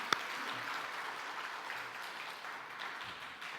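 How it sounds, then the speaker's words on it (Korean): A congregation claps during a Sunday afternoon church service, a steady, fairly faint wash of applause that continues evenly throughout, with one sharp knock near the start. "박수와 영광의 박수 올려드리겠습니다."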